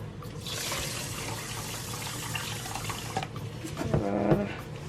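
Water is poured into a pot while cooking chicken in sauce with salted fish, a steady close splashing pour that runs for about three seconds, then eases into fainter trickling and clinks.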